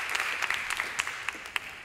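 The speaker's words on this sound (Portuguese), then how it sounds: "Um aplauso para a nossa última convidada da manhã." Audience applause in a large conference auditorium, a soft, even bed of clapping with sharper individual claps popping out near the front, moderately quiet throughout.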